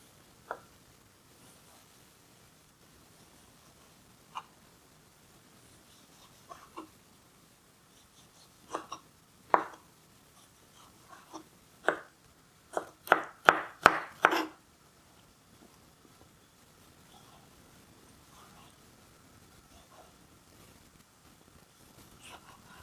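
A knife slices ingredients for Iranian vavishka stew on a cutting board: scattered, quiet single cuts, then a quick cluster of sharper chops near the middle before things go still again.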